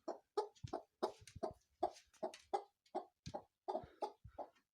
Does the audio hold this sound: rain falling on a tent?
no